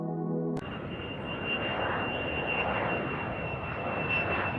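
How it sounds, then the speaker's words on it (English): A fixed-wing airplane roars steadily and loudly with a broad engine rumble and a thin high whine, close by and continuous after a brief voiced tone at the start. "Airplane."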